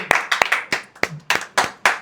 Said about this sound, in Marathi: हे सगळ्यांनी भोसले काकांसाठी टाळ्या वाजूयात आपण.